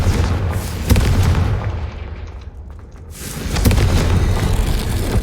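A Confringo fire spell in Hogwarts Legacy explodes with a loud booming blast near the start, then a second heavy rumble builds and swells toward the end over dense game background noise.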